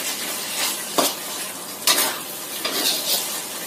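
Chicken and spring onions stirred in a pan, a soft continuous sizzle broken by a few sharp scrapes and clinks of the spatula against the pan, close and moderately loud with no talking.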